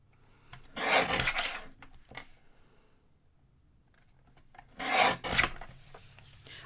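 A greeting card insert being trimmed, two separate bursts of rasping cuts, close and fairly loud, with quiet handling between them.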